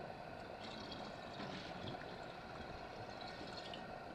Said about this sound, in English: turn the water back on and just fill it up